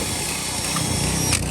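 A power drill with a wire brush spins against an engine part during a Tri-Z engine rebuild, giving a steady, close, continuous whirring grind for about a second and a half with no talk.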